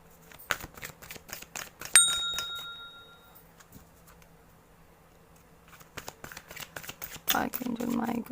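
Oracle cards being shuffled and pulled from a deck during an angel card reading, giving soft papery riffles and taps, with a bright bell-like ding near the start; faint background sounds and a burst of handling near the end.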